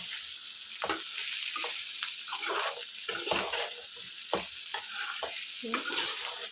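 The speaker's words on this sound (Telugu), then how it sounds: "బాగా మంచి కలర్ వచ్చేంత వరకు ఇవి కొద్దిగా క్రిస్పీగా అయ్యేంత వరకు ఫ్రై చేసుకోవాలి. మనం మిక్స్ చేస్తూ ఉండాలి" Bitter gourd slices crisping in hot oil in a pan, loud continuous sizzle with repeated scraping strokes as the pieces are stirred and tossed, close and busy with no talking.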